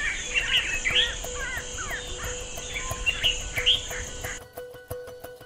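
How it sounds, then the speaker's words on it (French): A dense dawn chorus of many birds in the Caprivi Strip, Namibia, with overlapping chirps, whistles and caw-like calls over a steady hum, the sound cutting off near the end. "Nous sommes réveillés par une multitude de chants d'oiseaux"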